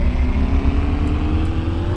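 Car engine in the Cars For Sale Simulator 2023 video game, a steady low droning hum at a constant moderate idle or rev, fairly loud and alone, with no talk.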